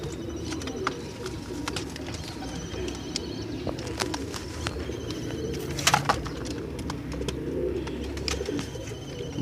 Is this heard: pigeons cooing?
yes